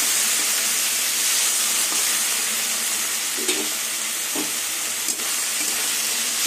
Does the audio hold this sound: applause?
no